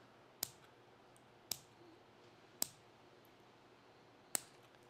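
Snips cutting the excess off a fishing worm rig, heard as four sharp, isolated clicks spaced roughly a second apart over a quiet background.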